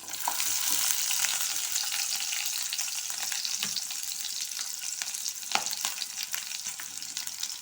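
Roughly chopped medium onion and five garlic cloves fry in a hot pan, giving a steady, loud sizzle with occasional stirring scrapes and no talking.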